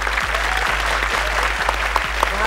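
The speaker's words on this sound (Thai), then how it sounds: "ขอเสียงปรบมือดังๆนะครับให้กับอีกหนึ่งนวัตกรรมของเรานะครับ" At an innovation awards show, a crowd claps loudly and steadily for a robotic arm entry. The dense, continuous applause sits over a low electrical hum, with a few faint thumps recurring beneath it.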